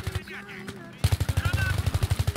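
Gunfire in Battlefield 3: sparse shots at first, then a rapid, loud, evenly spaced automatic burst that continues to the end, with some voice faintly under it.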